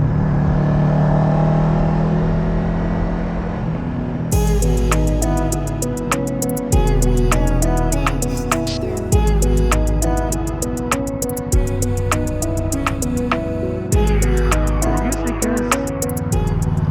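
Road traffic at rush hour heard from a motorcycle: a steady engine and road rumble with passing vehicles, then a loud, sharp rhythmic clicking over the hum, continuous and close throughout.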